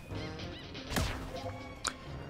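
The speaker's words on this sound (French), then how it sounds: "un oiseau immense contrôle la météo" A giant weather-controlling bird in the video game Donkey Kong Bananza gives a loud honking, goose-like call with a sweeping cry near the middle and a short sharp squawk near the end, over busy game sounds.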